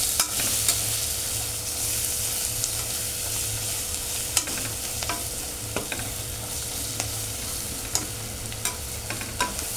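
Onion-garlic ghati masala being stirred in a hot frying pan: steady close sizzle with scraping spoon strokes and sharp clicks scattered throughout, no voices.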